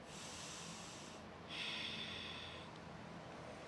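A sharp nasal breath during a yoga vinyasa flow, faint and close, with a brief stronger exhale partway through against quiet room hiss.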